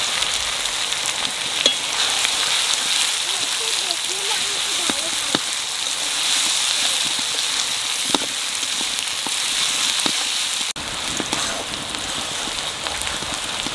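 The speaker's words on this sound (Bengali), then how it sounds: "দেখুন একদম লাল লাল করে ভেজে নিয়েছি পেঁয়াজটা" Onions sizzle in oil in a pan for a hilsa and chicken curry, giving a steady, close hiss with scattered pops and stirring clicks throughout.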